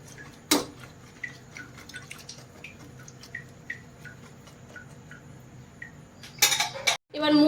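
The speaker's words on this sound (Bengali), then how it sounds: "একটু নাড়াচাড়া করে নিই" A spoon stirs banana flower (mocha) boiling with potatoes in a pot, giving sparse light clinks and taps against the metal over a faint bubbling, then a louder clatter of utensils near the end.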